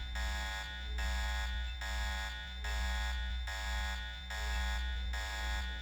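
A repeating electronic alarm in Deus Ex Revision beeps in steady pulses, roughly one every 0.7 seconds, loud and close over a low game hum with no talking.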